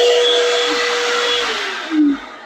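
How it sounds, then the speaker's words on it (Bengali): A hand dryer in a Vande Bharat Express train washroom blows with a steady, loud whooshing roar that fades slightly before a brief surge near the end, with no speech. "এখানে রয়েছে হ্যান্ড ড্রায়ার ভালো"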